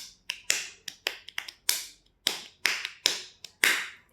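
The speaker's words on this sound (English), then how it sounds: "if you just clap your hands, it's going to be just rhythm" Bare hands clap out an uneven rhythm alone in a quiet room, about a dozen sharp, close claps in short bursts and pauses.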